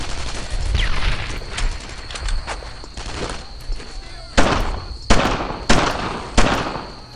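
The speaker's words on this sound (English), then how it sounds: "Fire the hole! I gotta stop wasting my fucking grenades." Rapid gunfire crackles in a Brothers In Arms WWII firefight, then a series of sharp, loud blasts lands in quick succession near the end, with a shouted voice early on.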